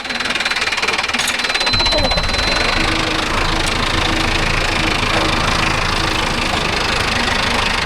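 A Mahindra Arjun Novo 605 DI tractor engine runs steadily and loud with a rough, knocking idle-like chug, pulling a rotavator in farmland; a voice briefly talks near the start.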